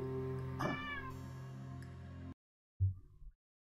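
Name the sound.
cat meowing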